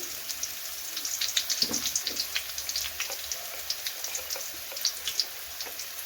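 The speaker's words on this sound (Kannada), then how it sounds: "ಸ್ವಲ್ಪ ಇದನ್ನು ಫ್ರೈ ಮಾಡ್ಕೊಳ್ಳೋಣ" Ginger, crushed garlic and asafoetida sizzle in hot oil in a home kitchen, a faint crackling hiss with scattered sharp pops and spits, steady and close but quiet, with no talking.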